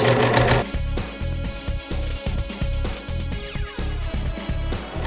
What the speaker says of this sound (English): we're going to run the machine and test the stitch